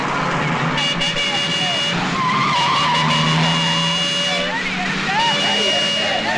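A car skids with a sharp tire squeal as it halts in a street blocked by a university football victory celebration, the screech running under busy background noise and raised voices.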